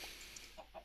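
Clucking chickens from the video game Chicken Strike, a few short, fairly close clucks over a steady background hum in under a second.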